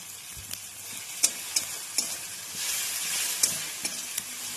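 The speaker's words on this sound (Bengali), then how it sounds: "টমেটোটা হালকা ভাজা ভাজা হয়ে গেছে এবার আমি এর মধ্যে অ্যাড করব হচ্ছে সামান্য একটু জিরে গুঁড়ো আর পরিমাণ মতন হলুদ গুঁড়ো" Tomatoes frying in a pan with cumin and turmeric powder give a steady close sizzle, broken by a few sharp stirring clacks from a utensil.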